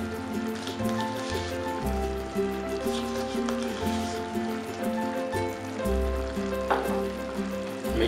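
A prawn mixture with finely chopped coriander and salt is stirred and mixed in a pan, giving a steady sizzle under irregular scraping stirs, with a low background hum and no talk.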